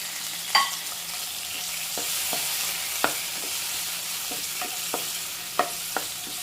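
Cut tomatoes fry in a pan over a low flame while being stirred, a constant soft sizzle broken by occasional sharp spoon scrapes and clicks, with no talking.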